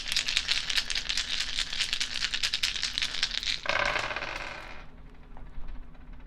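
Story dice rolled and rattling together, a rapid clattering patter of many small hard impacts for several seconds, then a brief skittering settle as they come to rest, close and fairly loud with no talking.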